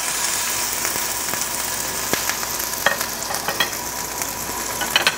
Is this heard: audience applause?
no